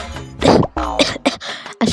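Close, forceful coughing from a person who has just eaten spicy, sour fuchka, several hoarse bursts with brief throat-clearing sounds between them and no talk.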